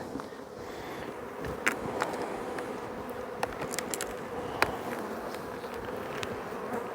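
A steady, dense hum of many honey bees buzzing close by at a hive, with occasional sharper buzzes as individual insects pass near.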